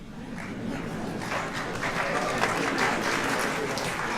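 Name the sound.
crowd applause at political rally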